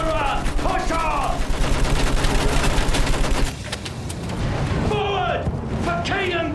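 Machine-gun fire in the World War I game Battlefield 1, a sustained rapid rattle for several seconds that then thins out, while shouted voices call out over it.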